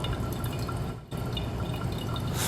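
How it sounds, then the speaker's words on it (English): Water pours steadily from a kettle over ground coffee in a Hario V60 pour-over dripper, a continuous close splashing trickle with one brief break, and no voices. "when I'm adding water, I'm going in nice circles, making sure that I'm wetting every part of the coffee bed"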